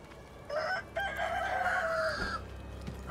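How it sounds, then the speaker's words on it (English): Chickens in the video game Sekiro cluck and a rooster crows in bursts, fairly close and fairly loud, with overlapping fowl calls and no talking. "So many chickens. I wonder what's up with the chickens."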